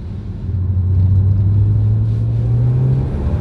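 BMW M3 engine pulling hard on a wet mountain road climb, a loud, steady deep drone that rises gradually in pitch as it accelerates, close and continuous with no talk.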